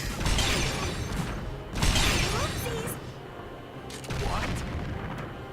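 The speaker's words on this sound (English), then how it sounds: "you get to see a rocket launcher" Rocket launcher fired in the Valkyria Revolution video game: three loud blasts with whooshing trails and debris crackle, spaced a couple of seconds apart over steady battlefield rumble, with a voice speaking between them.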